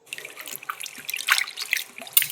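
Tap water runs and splashes as spinach leaves are washed in a sink, with uneven trickles and drips and no talking.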